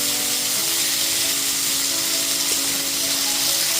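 Chopped tomato frying in hot oil in a pan while being stirred, a loud steady hiss and sizzle running unbroken from start to finish with no talking.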